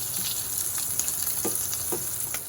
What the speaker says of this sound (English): now we're gonna set the meatballs in the pan and let them cook evenly on all sides